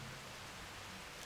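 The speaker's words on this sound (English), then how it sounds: "So delicious to listen to Gaia when she's raining just behind us" Rain falls nearby outdoors as a steady, dense hiss of drops, soft and continuous with no voices over it.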